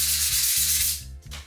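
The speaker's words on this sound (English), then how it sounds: "just rub it down with a bit of sandpaper because I've created a little bit of damage" Sandpaper rubbed back and forth over a threaded metal pipe for a DIY industrial pipe light, a loud close hissing scrape in steady strokes over a low hum.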